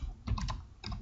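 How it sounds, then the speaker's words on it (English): Quiet clicking keystrokes on a computer keyboard, a few quick taps in a short burst at close range. "I'm typing so slow."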